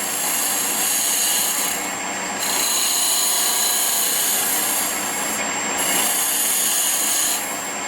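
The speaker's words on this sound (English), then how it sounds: "I'm just going to make a light cut through here." A Hunter hollowing tool makes light, steady cuts into wood on a lathe, giving a continuous broadband scraping hiss with brief pauses between passes, close and loud.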